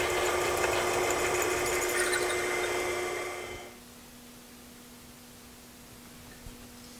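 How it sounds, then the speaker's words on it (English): A power drill runs with a steady high whir while boring a hole in a small part for a lathe speed indicator, then winds down and stops after about four seconds, leaving quiet hum. "I decided to drill a hole in the middle of this."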